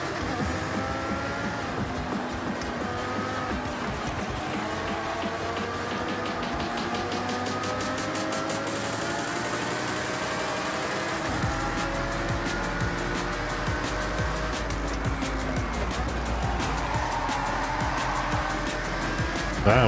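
Racing cars in Forza Horizon 6, including a Ferrari F50, roar continuously with engines revving and shifting through gears, tires occasionally squealing as AI opponents jostle close by, loud throughout with no talk.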